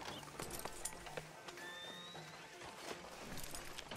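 Horse hooves clip-clop at a walk through a town street in Red Dead Redemption 2, steady close footfalls with a brief whinny and faint background ambience.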